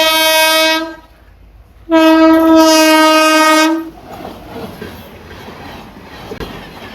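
A train horn blares twice in long harmonic blasts near a railway crossing gate, followed by the rumbling clatter of rail cars rolling past nearby.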